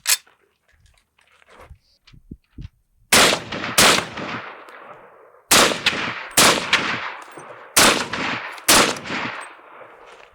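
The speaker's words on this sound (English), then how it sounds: "And now, Grandpa here, the M1 carbine, a battle-tested platform adopted by the U.S. military" An M1 carbine rifle fires six loud, sharp shots in three pairs, each crack trailing off into a long outdoor echo, after a few soft clicks and handling noises at the start.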